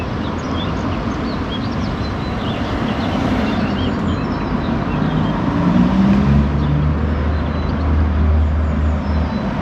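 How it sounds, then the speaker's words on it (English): Road traffic passing through a medieval market town near an old bridge, a continuous broad rumble of cars and heavier vehicles with a low engine drone swelling toward the end, and no speech. "although the traffic's going past, you can probably tell it's quite quiet."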